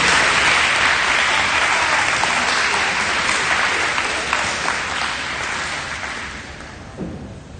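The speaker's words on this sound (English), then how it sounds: "Let's give the A honor roll ninth grade a round of applause." An audience at a high school awards day applauds the ninth-grade A honor roll, a full, loud round of clapping that gradually thins and fades over several seconds.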